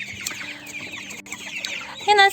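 Domestic chickens clucking, broilers or backyard breed hens, a close run of short clucks ending in a louder, higher squawk.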